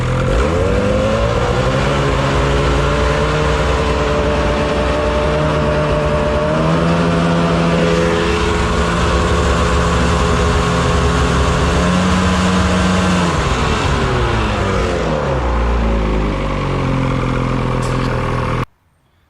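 Motorcycle idling through a Bikeman Performance mountain can muffler, a steady deep rumbling exhaust close by with slight rises and dips in pitch, running for most of the time before cutting off abruptly at the end.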